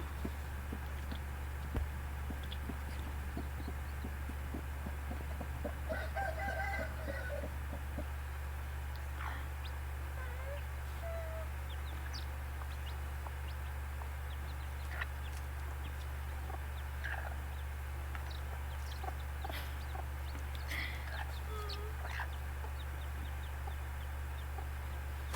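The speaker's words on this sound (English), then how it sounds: "It's a black chicken." A black chicken clucks softly and intermittently with a few other fowl, faint bird calls scattered over a steady low electrical hum and background hiss, no one speaking.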